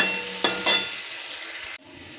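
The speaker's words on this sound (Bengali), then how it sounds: "এই যে লাল লাল করে ভাজা হয়ে গেছে, অল্প তেলেতেই হয়ে যায়" Chopped banana flower fries in a little oil with ginger, cumin, chilli and turmeric, giving a close, loud sizzle with two brief stirring bursts before it cuts off sharply.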